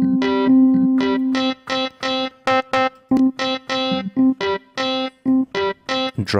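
A synth riff from the UVI Workstation, run through an amp drive effect, plays in choppy staccato notes with a gritty, overdriven amp tone, the phrases stopping and starting in a steady rhythm.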